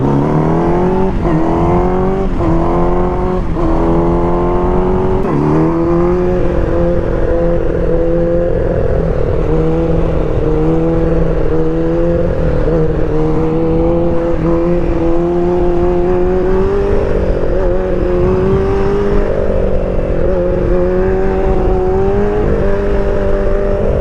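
A motorcycle engine revs up and down close by, with several rising and falling pitch sweeps and then a steadier drone that climbs slowly, loud and continuous, with no talking.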